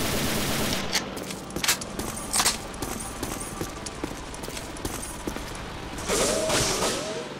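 Machine guns rattle in the war game Banzai Escape, bursts of rapid clattering shots arriving in uneven volleys, some sharper and closer, with a whistling tone near the end.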